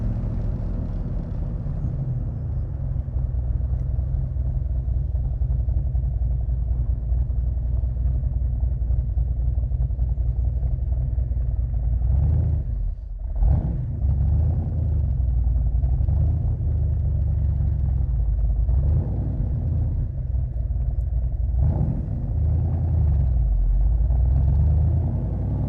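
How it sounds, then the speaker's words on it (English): A Crendon Cobra replica sports car driving, its engine giving a continuous loud, deep rumble that briefly dips and surges as the throttle changes. "It's very exciting driving a Cobra, and you get carried away wanting to put your foot down"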